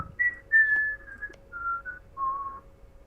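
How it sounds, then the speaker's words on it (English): A person whistles a short melodic phrase of several sustained notes with brief pauses between them, close and clear over a quiet low background hum during a multiplayer Europa Universalis IV game session. "Don't fucking whistle."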